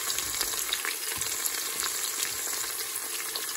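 Chopped onion and ginger fry in a hot pan with a dense, continuous close-up sizzle and crackle, and occasional stirring sounds, with no voices.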